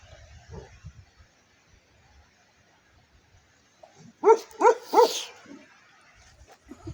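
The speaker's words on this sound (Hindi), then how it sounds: "कुत्ता रास्ता रोक के खड़ा हो गया भाई, कुत्ता ही नहीं छोड़ रहा" A dog standing in a road and blocking the way barks three or four times in a loud, close burst, with faint low rumbling and scattered quiet noise before and after.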